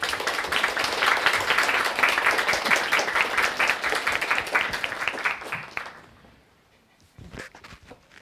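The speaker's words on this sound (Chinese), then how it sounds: "下面呢我们就用掌声啊欢迎" An audience applauding to welcome a university lecturer at a lecture on Beethoven, dense steady clapping from a crowd for about six seconds, then fading to a few scattered claps and footsteps.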